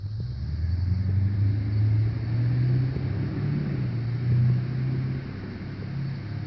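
A 2005 Chevrolet Silverado with a Duramax diesel engine idles steadily nearby, a continuous low rumble holding even throughout with no voices.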